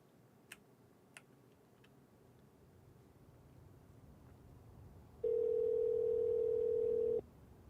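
During a phone call in the video game Perfect Tides, a telephone sounds a single steady electronic tone lasting about two seconds after a few faint clicks over quiet room hiss.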